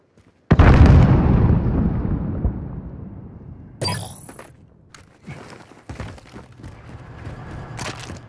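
A grenade detonates in a video game with a sudden loud boom that rumbles and slowly fades over several seconds, followed by a sharp metallic crack and scattered softer thuds and clatter.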